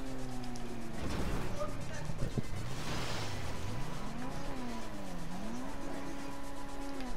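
An armored car drives in GTA Online, its engine note rising and falling through gear shifts with tire squeal, loud and steady, while people talk over it.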